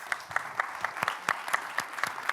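Applause from a small group, the claps falling in a steady, even rhythm, moderately loud and with no voices over it.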